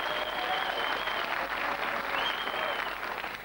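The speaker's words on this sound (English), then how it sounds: "they can't wait to applaud you" Studio audience at a celebrity quiz show applauding a guest, a steady, dense wash of clapping that holds evenly throughout with no voices over it.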